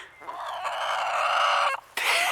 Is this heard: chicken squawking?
yes